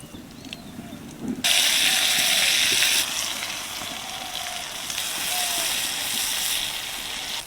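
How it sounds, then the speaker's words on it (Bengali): Fish tail pieces dropped into hot oil, a quiet bubbling at first that bursts into a loud, steady sizzle and then settles into a softer continuous frying hiss. "লেজাগুলোও আমি একইভাবে ভেজে নেব।"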